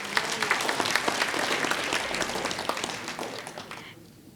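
A graduation crowd gives a round of applause, a full steady clatter of many hands that holds for several seconds and then tapers off quickly at the end.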